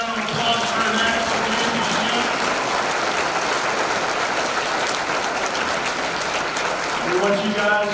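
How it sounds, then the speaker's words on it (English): A banquet crowd applauds the racing crew at the Crate Racin' USA awards banquet. The clapping is loud and sustained for several seconds, with voices mixed in. "Let's give this whole crew a nice round of applause for that."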